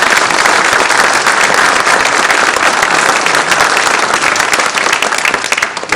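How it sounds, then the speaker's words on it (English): Loud, dense applause from the audience at the Galveston Chamber C-Crewe mayoral candidate forum, a crackling roar of many hands clapping that holds steady and only eases slightly at the very end. "I'd like to give each of you a round of applause"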